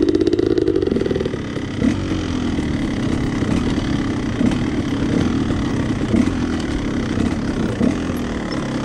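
A motorcycle engine runs on the Blue Grouse Trail, a loud close rev at the start dropping into a steady, rumbling idle-to-low-throttle drone with small bumps and throttle blips.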